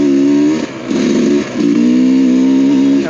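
A dirt bike engine revs loudly and close on a trail, its droning note rising and dipping through a few throttle swells with a brief lull between them, with no talk over it.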